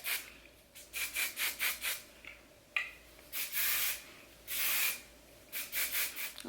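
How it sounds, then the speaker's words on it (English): Kenra Dry Volume Burst soft-hold hairspray misted onto the ends of hair: a string of short hissing puffs, then a few longer sprays, close and fairly soft, with no talking. "This is the Kenra Dry Volume Burst. It's a soft hold hairspray"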